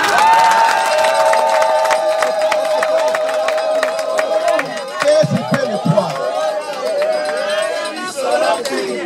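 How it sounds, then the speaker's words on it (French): Audience at a university graduation ceremony in Kinkole cheers and applauds loudly and steadily, a dense crowd roar with clapping that carries under someone speaking over it throughout. "Applaudissez tout ça."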